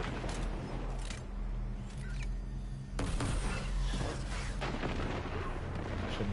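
Heavy weapon fire rattles at a tank in the video game Destiny 2, a series of loud booming shots and blasts over a low rumbling bed, with a sharper burst about halfway through.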